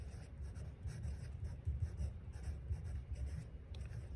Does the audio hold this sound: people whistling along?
no